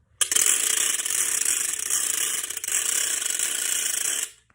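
A loud, continuous rattle from a handheld ratchet noisemaker, its handle turning a ridged wheel, cranked steadily for about four seconds, dense rapid clicking, close by, then stopping abruptly.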